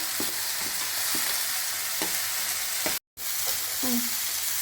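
Chopped green chillies sizzle in a hot pan for jackfruit leaf thoran, a steady close crackle broken by a few light scrapes and taps of stirring and one brief dropout midway.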